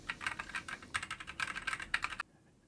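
Keys clack on a Kyria split keyboard in a self-designed case, a quick, uneven run of close, crisp keystrokes for about two seconds before stopping abruptly.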